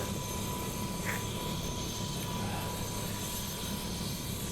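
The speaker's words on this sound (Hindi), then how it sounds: "यह है मणिपुर हेली सर्विस का हेलीकॉप्टर।" A steady, loud rotor and engine roar fills the whole clip without a break, from an 11-seat Manipur Heli Service helicopter running nearby after landing.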